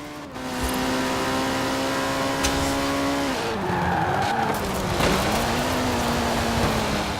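Sports car in Forza Horizon 4 drifting sideways, a loud sustained engine note shifting pitch with tyre squeal sweeping through the middle and end.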